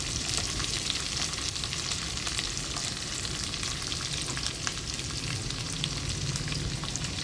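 Onion and green chilli pieces frying in hot tempering oil for a curry, a steady close sizzle with faint stirring crackles throughout, no talk.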